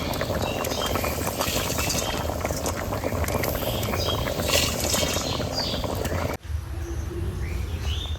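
Fish roe fritter curry bubbling with potatoes in water, a dense steady boil close by that cuts off abruptly near the end, leaving a quieter background with faint bird calls.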